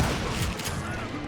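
A rapid, loud burst of gunfire crackles close by, shots overlapping densely, in the video game Call of Juarez.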